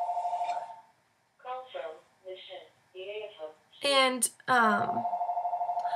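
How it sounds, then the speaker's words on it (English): A telephone rings with a steady electronic tone at the start, then voices talk over a pause, and the ringing returns loudly and continues to the end. "hold on, that's a phone."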